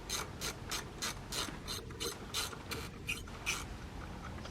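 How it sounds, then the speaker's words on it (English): Ratchet wrench clicking in quick repeated bursts while undoing bolts on car intercooler and intake piping, faint and close, with steady rhythmic pawl clicks and no speech. "now we're just going to undo all our bolts"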